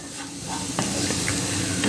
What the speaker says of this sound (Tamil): ஒரு 1 to 2 மினிட்ஸ் இந்த பருப்போடு சேர்ந்து அப்படியே வதங்கட்டும்.